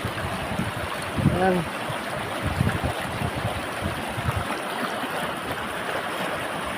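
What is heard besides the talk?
strong water current flowing while fishing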